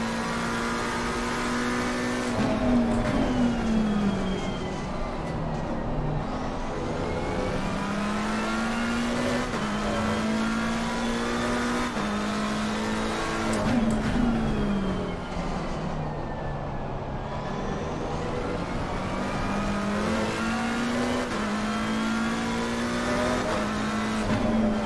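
Mercedes AMG race car engines roaring in an esports sim-racing event at Valencia, a loud continuous engine drone with rising and falling pitch through gear changes, several cars close together, no talk.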